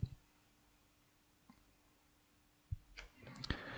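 A computer mouse clicking during a software download in a quiet room: a few soft, isolated clicks spaced apart, then a quick small cluster near the end.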